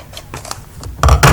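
Scissors cutting straight through a paper foldable at close range, a few soft snips followed by two louder, fuller cuts at the end.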